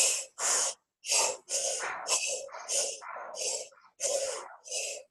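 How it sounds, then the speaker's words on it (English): Big, deep diaphragmatic breaths in and out during a guided rocking exercise, about nine airy inhales and exhales in a steady rhythm, close and fairly loud with no talk between them. "Big, deep diaphragmatic breaths."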